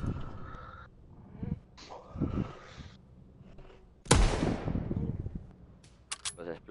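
A sudden loud blast with a rumbling decay bursts out midway, preceded by scattered game sounds and a few clicks afterward.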